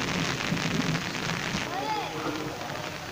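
Steady rain falls throughout, a continuous broadband hiss of drops hitting surfaces, with faint tonal sounds like distant singing or a bird call briefly rising above it in the middle.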